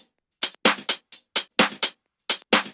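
Analog-style drum texture layer from a dance remix, a run of punchy broadband hits in an uneven rhythm with short gaps, loud and close with no voices.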